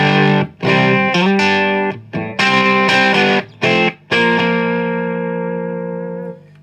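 Strat bridge pickup driven through a Dirty Little Secret pedal into an Orange TH30 amp: a quick run of loud, slightly gritty chord stabs, then one long chord left ringing out, alone and close.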